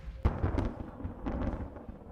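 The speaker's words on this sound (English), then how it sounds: "more thunder and lightning." Booming thunder with a sharp crack near the start and a second rolling rumble about a second later, heavy low-end and fairly loud, with no talking.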